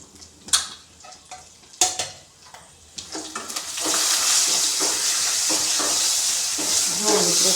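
Mustard seeds, cumin, curry leaves and turmeric hit hot oil in a pan, a few sharp clinks of a utensil first, then a loud, steady sizzle that swells and holds close up.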